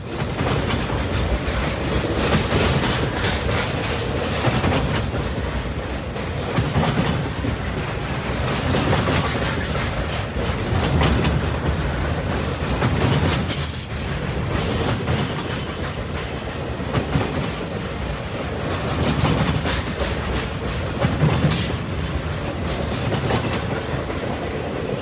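A Triple Crown freight train rolls steadily through the Milan siding, with a continuous loud rumble, rhythmic clickety-clack of wheels over rail joints and occasional brief wheel squeals throughout.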